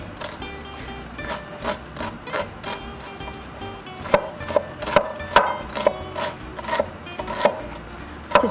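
A knife chopping an onion on a cutting board, a string of sharp knocks at an uneven pace that grow quicker and louder toward the end.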